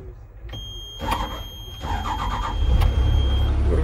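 A Hyundai excavator engine cranking and catching, a whirring starter followed by a rising, rough diesel rumble that grows louder and steadies toward the end.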